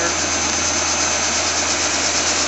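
A Monarch 10EE 12.5 by 20 inch lathe running at 2200 RPM gives off a steady, loud mechanical hum with a constant low drone and no change in speed across the short stretch.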